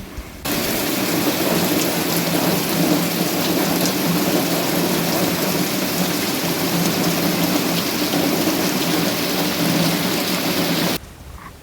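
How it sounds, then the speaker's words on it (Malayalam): Heavy morning rain pours steadily and loudly on outdoor surfaces, a dense unbroken hiss that starts abruptly and stops abruptly with no voices. "രാവിലെ തന്നെ നല്ല മഴയായിരുന്നു ഇന്ന്"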